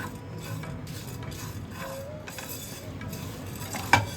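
Spice mix for a chop filling dry-roasting in a pan as a spoon stirs it steadily, with a faint sizzle and soft scraping throughout and a single sharp clink near the end.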